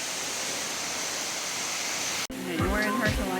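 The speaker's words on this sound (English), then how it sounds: "I mean, it's definitely a waterfall." An Oregon waterfall roars as a steady, full wash of noise that cuts off abruptly partway through, followed by a closer outdoor scene where people talk.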